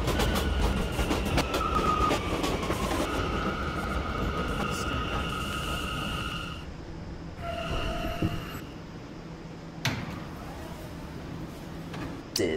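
An R179 E subway train rumbles along with a steady roar and metallic wheel squeal, then slows with brake hiss and clunks near the end.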